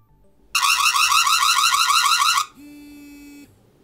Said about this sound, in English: Plays a sound effect, it vibrates, and then it does an electric shock.